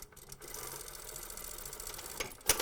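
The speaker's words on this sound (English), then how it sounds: "Stitch back and forth, so back tack" A sewing machine back-tacks a pant fly front, giving a faint, steady mechanical whir with a sharp click at the very end.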